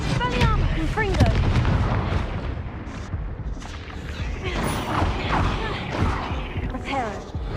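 Confringo spell blasts from the Hogwarts Legacy video game, with heavy booming explosions and crackling bursts piling up over dense battle noise, loud and continuous, mixed with shouted voices.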